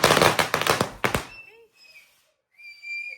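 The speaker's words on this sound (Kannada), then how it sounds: "ಪಟಾಕಿ ತೊಗೊಂಡು ಬಂದಿದ್ವಿ, ಹೊಡಿತಾ ಇದ್ರು" Children set off firecrackers at a village birthday celebration: a quick run of sharp cracking bursts, then thin whistling tones trailing off in near silence.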